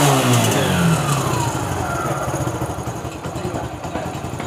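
A TVS motorcycle engine runs close by, revving hard at first and then settling into a steady, slightly uneven running note with rapid firing pulses.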